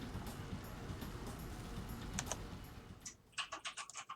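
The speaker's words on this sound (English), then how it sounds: "when I type, my typing is extremely loud through your mic" Fast, loud typing on a computer keyboard picked up by an oversensitive microphone during a live farm stream, a steady clatter over background noise that ends in a run of distinct sharp keystrokes.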